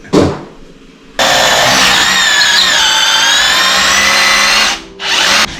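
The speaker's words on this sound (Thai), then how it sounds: "ในครัวก็จะเจาะตรงนี้นะครับ" A power drill bores into a kitchen floor for termite treatment, with a short whine at the start, then a loud, sustained grinding drone for several seconds that stops briefly and restarts.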